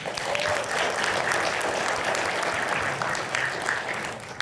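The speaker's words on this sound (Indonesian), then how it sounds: "Aplaus untuk anak muda topi merah." Applause for a young man in a red cap, a steady round of clapping from an audience that holds for several seconds and then fades near the end.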